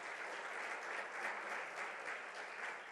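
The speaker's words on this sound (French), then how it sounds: "J'aimerais qu'on applaudisse très fort Monsieur le ministre Amadou Koné" Sustained applause from an audience at a closing ceremony, steady and fairly distant, rolling on evenly for a few seconds with no speech over it.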